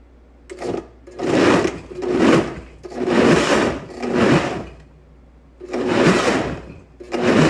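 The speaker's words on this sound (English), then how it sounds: "Your blender should have a pulse button." A kitchen blender chops vegetables in short pulses: five bursts of whirring motor noise, each lasting about a second, separated by brief pauses. The bursts are loud, close and heard alone.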